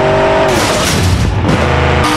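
A Mercedes J-Class car crashing into a gate in BeamNG.drive, a short loud burst of engine roar, tire noise and impact clatter, with no talking.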